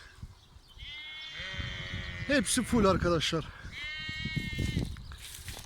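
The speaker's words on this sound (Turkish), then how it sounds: "İşte zıvart biles koyununun özelliği, görselliği, güzelliği, bereketi." Zwartbles sheep and their lambs bleat repeatedly on a farm, the wavering cries clustering in the middle, while someone talks over them.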